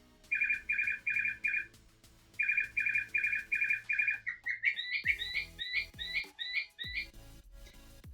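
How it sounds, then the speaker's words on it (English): Audubon bird clock in a sewing room sounding its bird calls: a rapid repeated trilling chirp in bursts, a pause, another burst, then a series of higher rising whistled notes over faint thumps, fairly close. "I have an Audubon bird clock in my sewing room. So every time it goes off, we count the birds."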